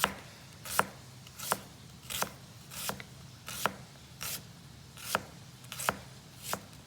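A knife cuts through a quarter onion on a board with about nine crisp, evenly spaced chops, close and fairly quiet with no talking.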